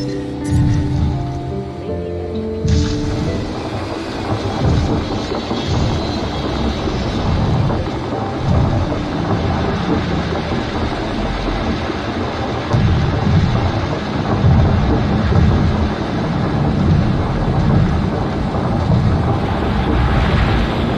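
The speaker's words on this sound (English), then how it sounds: "Storm warning level has been raised." Rain and a heavy thunderstorm sweep over a dinosaur park island in the Jurassic World Evolution game, with a dense steady roar of wind and downpour and deep low rumbles, loud and continuous throughout.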